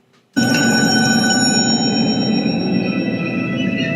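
A telephone rings loudly and continuously in a TV drama scene, its bright metallic bell starting abruptly after a brief quiet and carrying on without a break.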